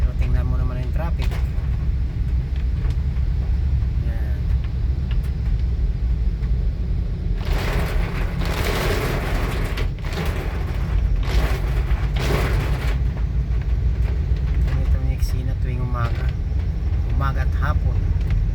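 Heavy expressway traffic between Villamor and Magallanes forms a dense, steady low rumble of engines, with louder swells and passing vehicles midway through, while someone talks over it.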